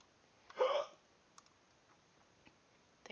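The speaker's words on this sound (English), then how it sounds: "Oh, hiccups?" A single short hiccup bursts out near the start, followed by a few faint clicks in an otherwise quiet room.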